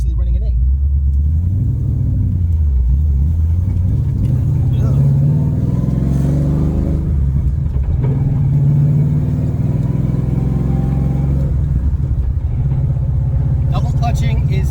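Coyote-swapped Ford GT500 with a T56 transmission, rods-and-pistons motor and boost-ready fuel system, driving with a loud, steady engine drone whose pitch sweeps up and down as it accelerates and shifts, while people talk over it.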